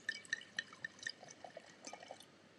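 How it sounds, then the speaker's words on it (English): Cabernet Sauvignon red wine is poured into a glass, giving quiet, close-up splashes and a quick run of bright drips and gurgles, with no talking. "I'm going to pour this one now."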